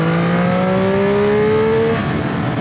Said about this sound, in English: Once you get up in the RPMs like that, that's where this bike starts to get a little crazy.